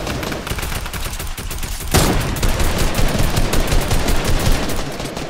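Rapid bursts of automatic gunfire from a Fortnite match fill the scene, loud and dense throughout, with a sharp intensification about two seconds in and continuous overlapping shots afterward.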